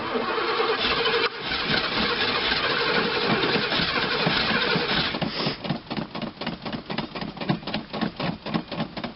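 A 1984 Oldsmobile Delta 88, running rich after three years in storage, cranks with a steady whirring drone, then catches and settles into a loud, uneven, pulsing run close by.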